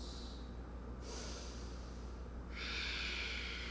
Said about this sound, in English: Breathing in through the nose, out through the nose